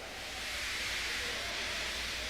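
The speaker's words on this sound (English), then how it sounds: "He just let off steam feebly." A steam locomotive lets off steam feebly, a steady, soft, broad hiss that stays even from start to finish with no other sounds.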